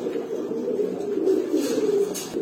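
A domestic pigeon at a seller's pen gives a soft, low cooing call, steady and close for a couple of seconds with no voices over it.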